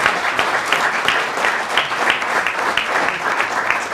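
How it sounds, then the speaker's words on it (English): Audience applause at a scholarship fund reception, a moderately loud, steady patter of many hands with a few individual claps standing out, close and continuous throughout. "Can we give a hand clap for them?"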